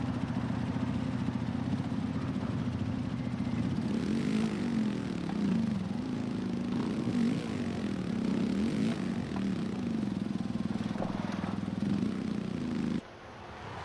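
A 2023 Kawasaki KX450F engine drones steadily through a supercross race, a continuous loud buzzing roar with rising and falling revs and a sudden drop near the end.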